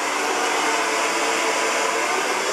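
A handheld hair dryer blows steadily on high heat close by, a continuous loud whooshing roar with no voices.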